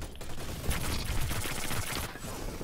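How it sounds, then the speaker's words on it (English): Sustained rapid minigun fire in the video game Hyper Scape, a dense continuous rattle of shots lasting about two seconds before cutting off, loud and close with no voices. "A minigun? Wow, the minigun is more powerful than I thought."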